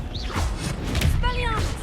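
The Confringo blasting spell in the game Hogwarts Legacy, heard as a quick whooshing burst and fiery crackle, with a voice calling out over it and shimmering effects trailing after.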